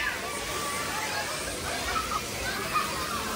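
Water splashes and rushes steadily at Adventure Island, a water park in Rithala, a dense continuous wash with crowd voices mixed underneath.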